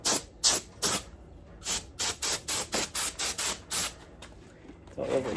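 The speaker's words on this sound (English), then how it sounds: "get compressed air in the can and then spray this all over you" Can of compressed air sprayed in short bursts, about a dozen sharp hissing blasts in quick succession with brief gaps, close and bright, then a softer rustle at the end.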